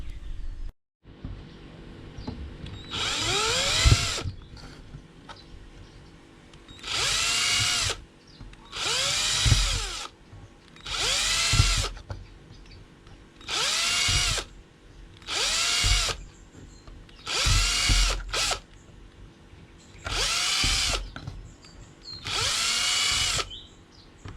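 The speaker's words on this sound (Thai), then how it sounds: "แล้วก็เจาะรูครับ เจาะรูให้น้ำมัน ระบายออกนะครับ" Power drill boring drain holes in a DIY evaporative air cooler, with about eight separate high-pitched whining bursts of a few seconds each and quiet pauses between them, loud and close.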